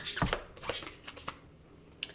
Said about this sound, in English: I did pre-shuffle, so I just want to shuffle in front of you.